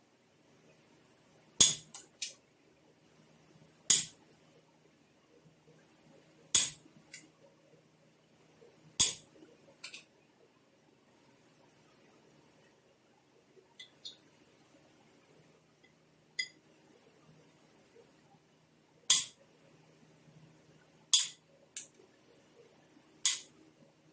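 Sharp strikes of a hammerstone on Flint Ridge chert ring out one at a time at irregular intervals while knapping an arrowhead, with a steady high insect-like whine running between them.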